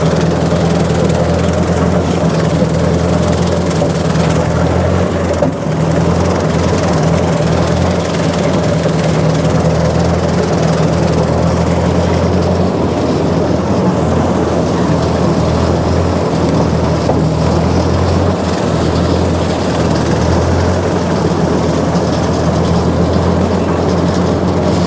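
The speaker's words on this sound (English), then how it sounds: "And the brush hog's cutting it." A tractor-pulled brush hog rotary cutter mowing tall grass: a loud, steady engine drone with a low hum that runs unbroken and close throughout.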